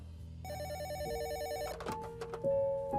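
A landline telephone rings with a repeating electronic trill, a steady warbling ring that carries on alone for a few seconds before other tones come in near the end.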